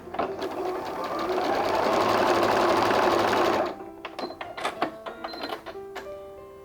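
A sewing machine stitches two patchwork squares together, a close, loud, continuous mechanical whirring lasting over three seconds, then stopping and giving way to light clicks, taps and fabric rustling.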